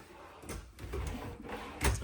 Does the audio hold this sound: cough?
no